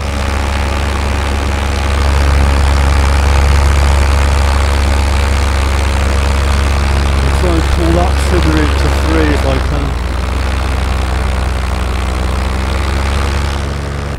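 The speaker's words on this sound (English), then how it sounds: "Everything sounds good, engine's good." A Parajet Maverick paramotor engine drones steadily and loudly in flight with a low propeller hum throughout, and a voice talks briefly partway through.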